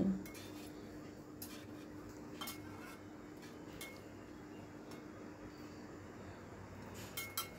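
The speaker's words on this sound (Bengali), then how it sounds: "সব কিছু আবারও ভালো করে মিশিয়ে নিচ্ছি" A metal spoon stirs and scrapes a pan of spiced curry cooked with ghee and crushed kasuri methi, with repeated clinks and scrapes against the pan over a low stove hum.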